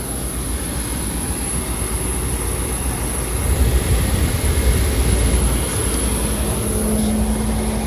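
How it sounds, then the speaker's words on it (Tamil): Steady broadband roar of a jet airliner's engines heard from inside the cabin after boarding, a continuous even drone that swells slightly midway, with no talking over it. "ஏறி வந்துட்டோம் ஃப்ளைட்டுக்குள்ளே"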